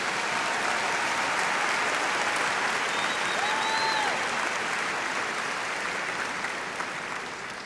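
Sustained audience applause fills a commencement hall in honor of doctoral graduates, dense and steady for several seconds before easing slightly toward the end; a faint whistle-like tone drifts through the middle.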